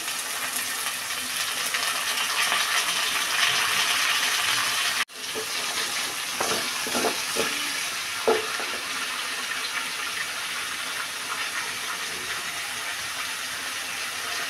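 Vegetable stalks frying in oil with panch phoron after potatoes were fried, a continuous loud hiss and sizzle that briefly cuts out and resumes with a few stirring knocks, close and steady, with no voices.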